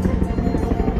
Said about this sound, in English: Oh, there's a helicopter up there.